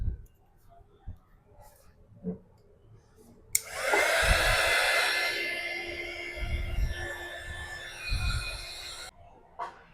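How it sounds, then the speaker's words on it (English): A heat embossing tool blasts hot air over an art journal page, switching on abruptly into a loud steady whoosh that runs for several seconds before cutting off, with soft rustling and handling before and after. "after minutes of heat embossing, here's what it's looked like"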